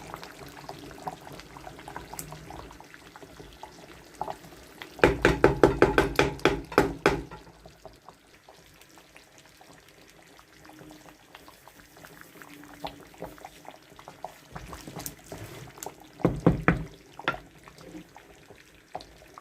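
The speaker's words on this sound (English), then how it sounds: "See the way it's bubbling?" Nigerian banga soup bubbles in a pot, a quiet simmer broken by two bursts of loud, rapid popping and gurgling, the first lasting a couple of seconds, the second shorter and later.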